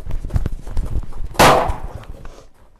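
A single sharp gunshot fired by a police officer outdoors, loud and close, cracking through a background of shuffling and movement, then decaying quickly.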